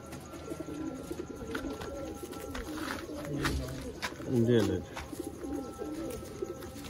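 Sialkoti pigeons coo in a loose flock, with one clear, close coo standing out briefly over steady background murmuring and faint voices.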